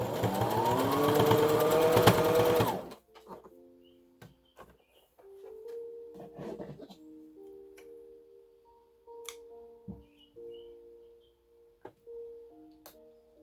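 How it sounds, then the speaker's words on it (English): A sewing machine stitches a pinned bandana in short, uneven bursts with soft ticking between runs, after a brief louder rustle of fabric handling at the start. "I'm just going to sew that so that it doesn't move."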